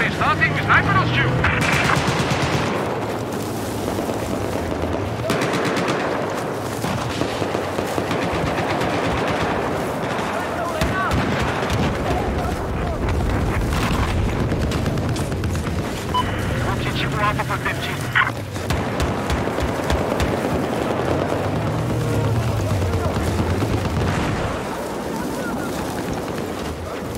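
Battlefield 4 combat with rapid machine-gun bursts, scattered gunshots and heavy explosions, dense and continuous throughout, with vehicle engine rumble underneath.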